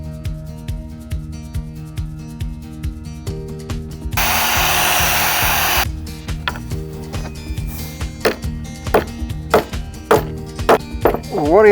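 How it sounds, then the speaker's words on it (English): A power drill whirs in one sustained burst of a couple of seconds, surrounded by knocks, clatter and tapping nearby. "So I'm just going to drill these holes."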